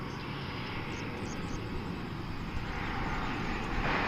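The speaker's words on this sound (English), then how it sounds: "This is a 24-year-old Airbus A319." A 24-year-old Airbus A319 at DFW Airport gives off a steady, moderately loud engine roar that holds evenly throughout, with no voices over it.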